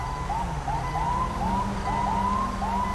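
A video game ambulance's rapid, repeating electronic siren yelps in quick regular chirps over a low engine rumble, fairly close and steady throughout.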